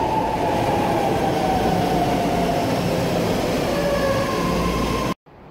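A BART train arrives at the station, a loud steady rumble of wheels on rail with a faint high squeal, continuous until it cuts off abruptly near the end.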